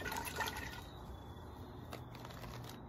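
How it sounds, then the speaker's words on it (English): Maitake (hen of the woods) mushroom clusters are dropped into a bucket of water for rinsing, giving soft close splashing and gurgling trickles at low volume with no speech. "Separate these out by layer and put them in your bucket of water."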